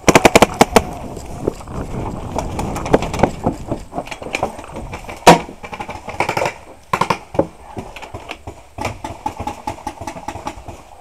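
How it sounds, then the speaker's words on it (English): A CCI Phantom paintball marker fires a rapid, irregular burst of sharp pops during an outdoor paintball game, dense at first and then scattered, loud and close. "Just fire a bunch of shots."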